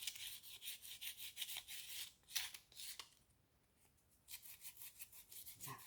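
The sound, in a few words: sanding with sandpaper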